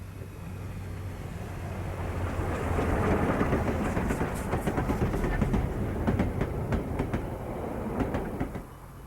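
A train on a railway enthusiasts' excursion runs in steady rain, its rumble swelling as it nears, with rhythmic clicking over rail joints and a few sharp clacks toward the end.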